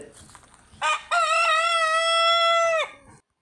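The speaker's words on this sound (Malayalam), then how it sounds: "നീട്ടി കൂവിയൊന്ന് ഉഷാറായിട്ടുണ്ട്." A rooster gives one long, drawn-out crow, loud and close, starting with a short clucking note and then holding a strong sustained call before stopping abruptly.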